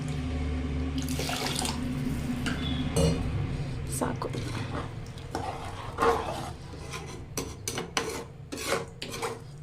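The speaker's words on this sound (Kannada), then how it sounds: "ಒಂದು ಕಪ್ ಅಕ್ಕಿ ಹಾಕ್ಕೊಂಡಿದ್ದೀನಿ ಅದಕ್ಕೆ ಎರಡು ಕಪ್ ನೀರನ್ನು ಹಾಕೋತೀನಿ" Water is poured from a cup onto rice in a pot, a close, uneven splashing and rushing with scraping handling noises and brief knocks, somewhat muffled throughout.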